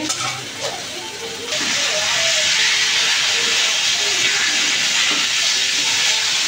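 Greens dropped into hot oil after onion and garlic have fried, a quiet crackle suddenly swelling into a loud, sustained hissing sizzle that holds steady, with faint background sounds early on.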